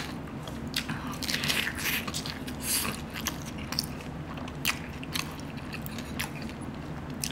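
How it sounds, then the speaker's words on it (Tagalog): A crisp first bite into a crispy liempo (pork belly) burger gives loud, close crunching, followed by a steady run of chewing and crackling from the fried skin. "Grabe to. Unang kagat pa lang."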